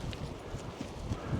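A horse's hooves clip-clop along a coastal walking path between Sennen Cove and Land's End, a close, uneven patter of footfalls over a low rumble of wind.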